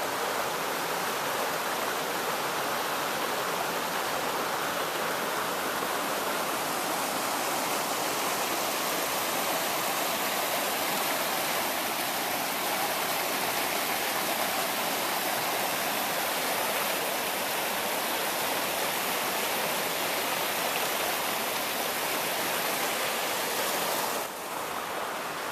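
Steady rush of a creek flowing past a campsite on Laurel Fork Creek after days of rain, a constant broadband wash of water holding even throughout with no voices.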